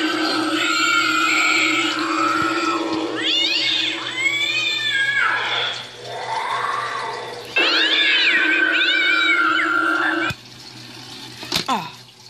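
A Spirit Halloween cat urn prop gives off loud electronic meows and yowling caterwauls, several drawn-out cries in a row that rise and fall in pitch, with a steady hum running beneath them and a short burst near the end.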